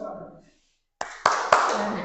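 Group clapping for the tepuk cinta clap game: a brief spoken lead-in, a short pause, then three sharp, loud claps about a quarter-second apart, each ringing into the next.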